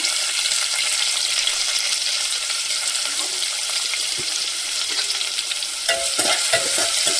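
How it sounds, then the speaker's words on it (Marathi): Onion and curry leaves frying in a pan for a Malvani-style liver dish, a steady close sizzle with occasional stirring scrapes throughout and no talking. "कांदा लाल होईपर्यंत भाजायचा"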